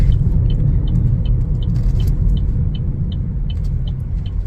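A 2025 Chevrolet Trax 1LT on the move, giving a steady, even road rumble with a low engine drone and tyre noise that holds close and constant throughout, with no talk.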